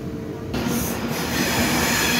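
A Class 390 train pulling in from London Euston rumbles close by with a loud, steady roar, its wheels squealing and clattering as the carriages roll past.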